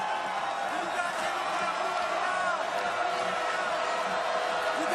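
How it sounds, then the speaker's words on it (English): Dense, roaring stadium crowd noise at a college football game between Washington State and Oregon, a loud steady wash of voices and cheering heard from up in the stands, with no clear talk over it. "That's how loud a crowd is up here."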